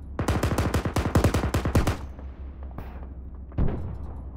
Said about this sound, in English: keep suppressing fire on those enemy positions